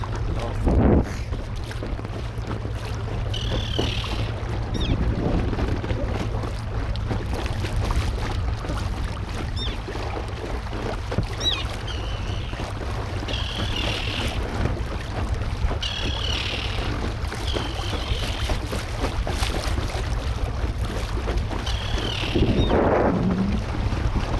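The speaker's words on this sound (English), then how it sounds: "the wind is on my direction" Wind rushes steadily across a microphone out on a lake from a small boat, a constant low buffeting roar with faint water splashes and occasional brief bird-like chirps.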